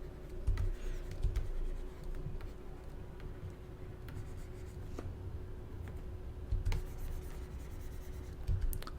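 A stylus scratches and taps steadily across a drawing tablet, soft continuous scribbling with light clicks, quiet and close with a low hum underneath.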